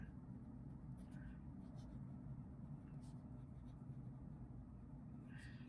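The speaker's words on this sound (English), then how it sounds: "This one definitely has more feedback, but not in a super bad way. It's a tiny bit scratchy" A Lamy Safari fountain pen with an extra fine nib scratches faintly across paper in soft, light strokes beneath a steady low background hum, with no talking.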